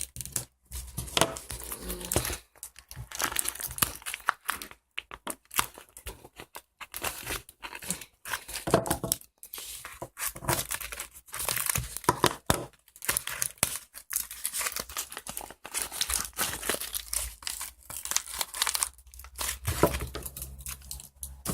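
A taped parcel of trading cards is opened, with dense tearing, crinkling and snipping noises from tape and packaging, close up and continuous, without talk.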